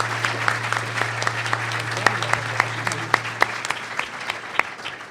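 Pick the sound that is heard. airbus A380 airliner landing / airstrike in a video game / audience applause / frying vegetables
audience applause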